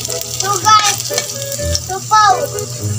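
Ginger sizzles and crackles in a hot pan of frying garlic for spicy crab adobo, a dense close frying hiss with brief stirring scrapes throughout.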